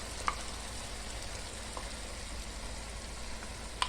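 Tomato puree frying in oil with ginger-garlic paste for a chicken dish, a steady low sizzle with a few faint clicks of a spoon against the pan, no voices.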